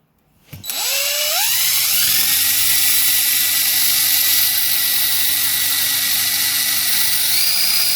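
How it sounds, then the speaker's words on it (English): A power drill spins up and bores steadily into a wooden dowel held in a vise, a loud continuous high whine holding for several seconds with no talking. "Load the dowel with a marked X on the top into a vise, and then drill it."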